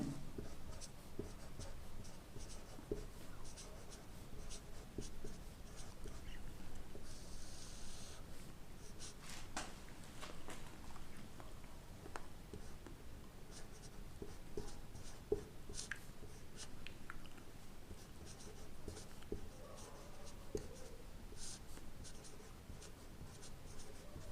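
Pen writing notes on paper during a study lesson, a faint continuous scratching and scribbling that runs steadily throughout.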